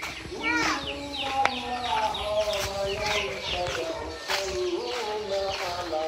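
Chickens on a village farm cluck and call repeatedly and fairly close by, a busy overlapping flock, with speech-like sounds mixed in.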